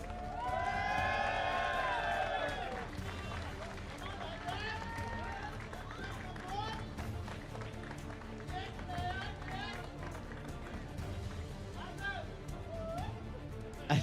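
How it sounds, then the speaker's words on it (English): Crowd applause with cheering and a whoop at a karting race prize-giving, the IAME Middle East Cup, for the second-place finisher in the under-10 category. It is a steady, sustained wash with voices throughout, and a voiced cry rises clearly near the start. "A round of applause for Adam El-Sheikh."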